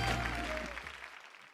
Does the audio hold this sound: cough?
no